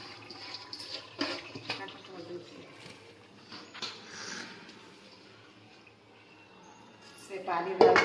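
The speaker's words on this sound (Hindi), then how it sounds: "इसे पानी डाल के खंगाल के डाल" Running water splashes in uneven bursts as something is rinsed in a home kitchen while chicken curry and rice are being made, moderately close, with a louder gush near the end.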